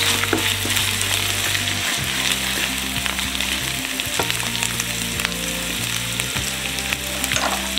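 Washed rice frying together with onion in a hot pan, a loud continuous sizzle with scraping stir strokes recurring every second or two, close up, no voices.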